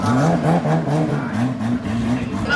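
A drag racing car launches hard down the strip at a Thai drag record event in Bangkok, its engine roaring loud and close with rapid rising revs and a harsh, rasping note throughout.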